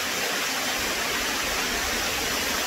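A waterfall on Madeira roars as a steady, loud, broadband rush of falling water, unbroken and close by, with no talking.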